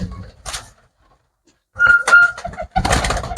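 Pigeons cooing in short bursts separated by brief silences, close and fairly loud, with a faint whistle-like tone amid the calls.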